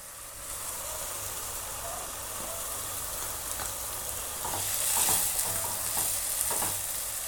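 Ground masala paste fries with onions in a pan during a paneer ghee roast, giving a continuous close sizzle with scraping stirring strokes that swell briefly partway through. No one speaks.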